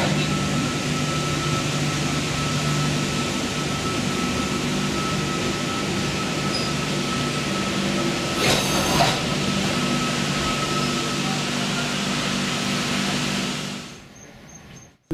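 A Comeng electric suburban train, an 8-car set, rumbles and hums as it pulls into a station platform, steady drone with a brief screech, then fading to quiet.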